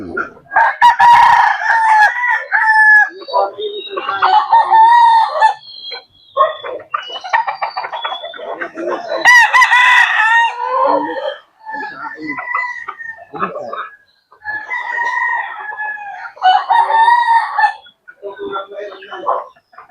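Several fighting-breed roosters crow loudly one after another in a backyard, long drawn-out calls close by, with hens clucking between them and a voice speaking.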